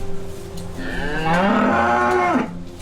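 A dairy cow calls for her calf in a loud, close, drawn-out moo lasting nearly two seconds, rising and then falling off, over quiet farm background.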